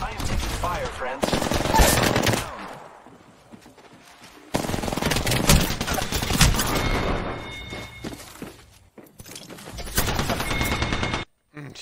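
Incoming gunfire during a video game firefight: loud rattling bursts in two or three long volleys broken by brief lulls, close and harsh, with the shooting dominating the mix.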